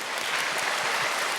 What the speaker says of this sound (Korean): 옆 사람에게 박수로 사랑을 전해보겠습니다.